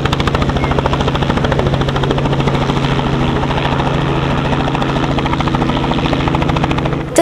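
A small helicopter flies over an outdoor air festival, its rotor making a loud, steady, rapid chopping drone that holds evenly throughout.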